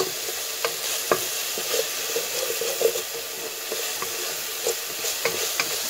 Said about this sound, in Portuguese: Coloquei o alho, aí vou dar uma leve douradinha no alho